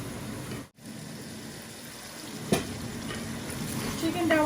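Chicken curry stirred and sautéed in a pan gives a steady, soft sizzle with faint scraping of the spoon and a brief clink, heard close and alone.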